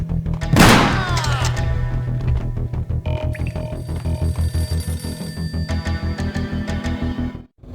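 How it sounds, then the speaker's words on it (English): An old, battered telephone rings repeatedly in the entrance hall of a building in the video game Max Payne, its steady bell bursts loud and close over a dense game soundtrack. "A beaten-up phone in the entrance hall was ringing."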